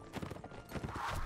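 Horse hooves clip-clop in a Warband mod medieval video game as a cavalry rider moves at a slowish pace. The hoofbeats come as a short run of soft, quick taps.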